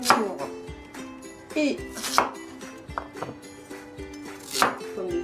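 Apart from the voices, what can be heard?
dicing Jerusalem artichoke and potatoes with a knife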